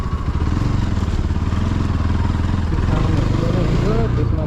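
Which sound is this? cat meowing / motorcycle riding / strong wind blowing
motorcycle riding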